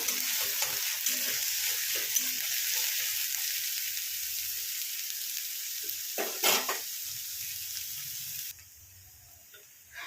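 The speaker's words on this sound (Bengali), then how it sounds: "পেঁয়াজটাকে ভালো করে ভেজে নেব" Finely chopped onion fries in a pan, a close, steady sizzle broken by scraping stir strokes, fading quieter near the end.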